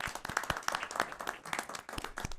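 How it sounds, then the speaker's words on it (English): An audience at a planning commission meeting claps in a warm round of applause, many hands patting in quick, uneven rhythm, moderately close and steady throughout. "So I want to give applause to Monica."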